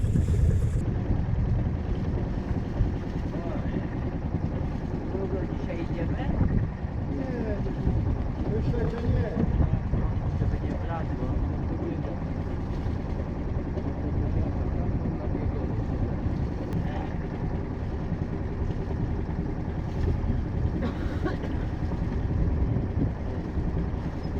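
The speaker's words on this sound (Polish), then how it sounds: "Silnik pracuje." A sailboat's auxiliary engine runs on the Baltic Sea, a steady low drone under wind buffeting on the microphone. The hum stays constant throughout, close and fairly loud, with no clear talk over it.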